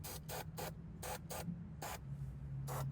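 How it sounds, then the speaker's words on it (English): Short bursts of spray paint hiss onto drilled holes in a Tacoma truck bed, several quick taps and longer sprays with gaps between, close and fairly quiet over a low background hum. "Now we'll hit our holes with a little bit of spray paint."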